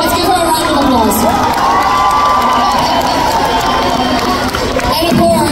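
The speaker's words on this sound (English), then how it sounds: "Let's give her a round of applause." A large crowd at a fan meeting in Manila cheers and screams loudly and continuously, a dense wall of high voices and shouting with applause mixed in, sustained throughout without pause.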